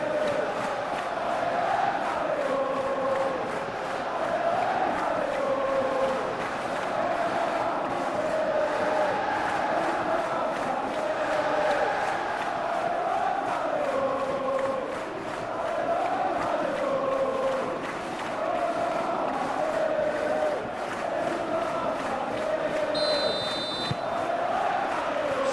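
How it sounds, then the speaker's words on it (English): Stadium crowd noise in the football game PES 21 at a Champions League match, a continuous loud roar of a capacity crowd that swells and dips, with commentary faintly underneath. "a capacity crowd here"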